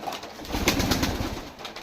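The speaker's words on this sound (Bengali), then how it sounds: "এই যে এটা কিন্তু সিরাজি কবুতর" Sirazi pigeons coo nearby in a short burst of low, throaty calls, with no speech over them.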